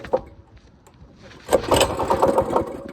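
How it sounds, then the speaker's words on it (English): Mini bike engine cranking and sputtering as it fails to catch, close and loud, a ragged burst of rough engine noise after a short quieter stretch. "And the bike not gonna start."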